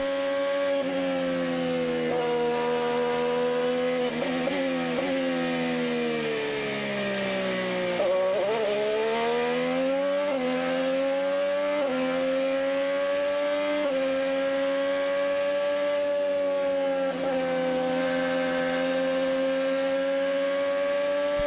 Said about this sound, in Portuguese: Você sentindo aí a saúde do motor Chevrolet do Hélio.